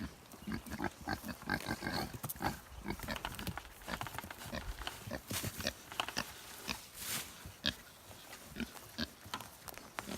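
Pigs eat grain at close range with rapid crunching and chewing, snuffling and grunting throughout in a busy, irregular rhythm.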